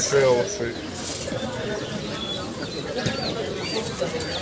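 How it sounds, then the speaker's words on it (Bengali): Pigeons coo softly at a weekly pigeon market in Fatullah, Narayanganj, Bangladesh, amid a busy, noisy background with people talking and occasional chirps, the birds close by. "এই কবুতর"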